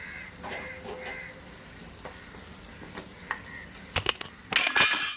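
Turmeric is stirred into butter and oil in a pan for puri bhaji, with soft frying sizzle and scraping stir strokes that grow louder and busier toward the end.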